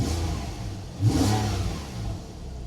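Porsche 911 Carrera S with a 3.8 flat-six revs up briefly, a rising engine swell over a constant low rumble. It sounds fairly close and has no talking over it.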